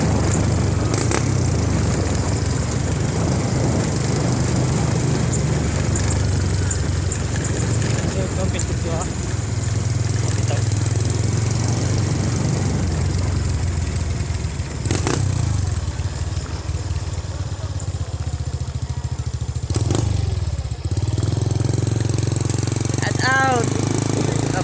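Motorcycles ride along at night in a group, their engines droning continuously and loudly close by with wind rush, occasional sharp clicks and brief dips in the roar.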